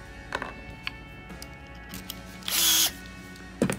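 A cordless drill fitted with a Phillips screw tip spins up in one loud, steady burst lasting under half a second while driving a screw into wood for a kids' birdhouse, with a few short clicks and taps before and after.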